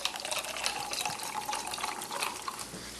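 Sparkling water streams into a glass in a home kitchen, a steady bright fizzing pour lasting the whole moment with faint clinks beneath.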